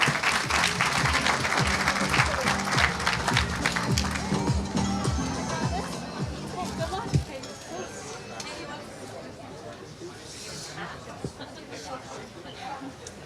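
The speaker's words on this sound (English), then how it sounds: "I'm going to need all of you clapping for this one." Audience clapping at a community Eid party, sharp claps and chatter for about seven seconds, then tapering off into crowd murmur and scattered voices.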